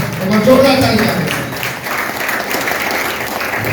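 A crowd at a corporate marketing event applauds loudly after a speaker is honoured, the clapping swelling early and holding steady, with a voice speaking over the start.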